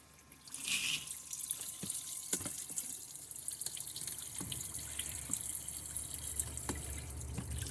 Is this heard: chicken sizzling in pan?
no